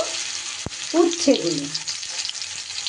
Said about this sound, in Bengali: এবার আমি এই তেলের মধ্যে দিয়ে দেব একটু 5 ফোড়ন